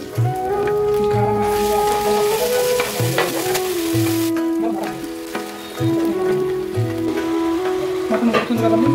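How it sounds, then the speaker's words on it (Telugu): Ginger garlic paste frying with onion, turmeric and chili powder in a pan for a restaurant-style mutton curry, giving a steady loud sizzle with occasional stirring under continuous background music. "ఈ అల్లం వెల్లుల్లి పేస్ట్ ఫ్రై అయిపోయిందండి."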